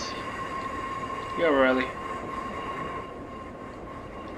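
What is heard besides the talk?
Class 142 Pacer train running in Train Sim 2019 video game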